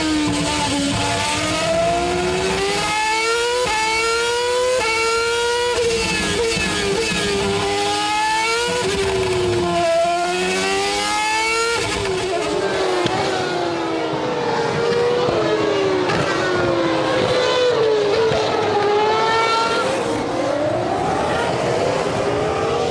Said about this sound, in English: Safety car making its way around.